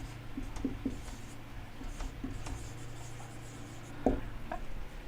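Pen scratching across paper in short bursts during handwritten notes, with faint intermittent strokes and a low steady room hum, no talk.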